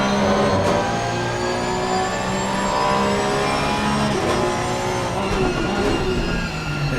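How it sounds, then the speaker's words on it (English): Porsche Cup race cars in Assetto Corsa Competizione at Donington Park: several engines rev and scream close together through a steady, loud seven-second pass, with rising and falling pitch as the cars battle side by side. "Nice little battle between 3 cars."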